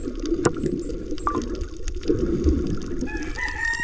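A rooster crows once, fairly close, over a busy outdoor background with running water and other fowl clucking.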